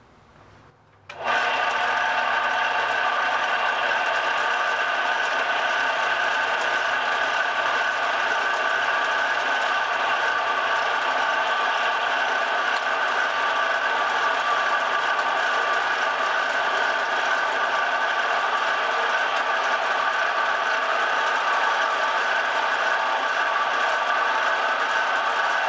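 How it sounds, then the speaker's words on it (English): A bandsaw cuts open a fifth-generation Camaro DRL fog light housing, its motor starting with a jump and then holding a steady, loud whine and buzz for over twenty seconds, close and continuous with no talk. "today we're going to be using a bandsaw to show you guys how to do it."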